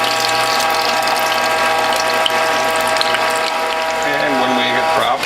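A ratcheting WHF juice press squeezes water from cloth bags in its tray, giving a continuous fast mechanical clatter with a metallic whine and a brief trickle near the end, loud and close.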